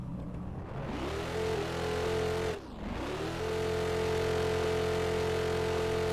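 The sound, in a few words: Dodge Hellcat engine revving in third gear, Roblox video game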